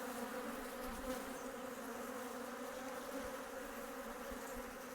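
Bees swarm around a hive during an inspection, making a dense, continuous buzz that stays fairly faint and steady throughout.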